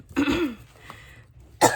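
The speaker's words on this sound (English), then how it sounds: "Oh, I'm coughing." Two throaty coughs close to the microphone, separated by a short pause, the second one sharp and abrupt.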